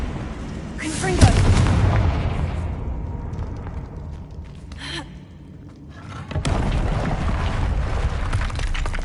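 Confringo spell blasts from a Harry Potter video game: a heavy booming explosion hits early, a sharper burst follows midway, and another rumbling blast arrives near the end, each leaving a loud, broad roar that lingers.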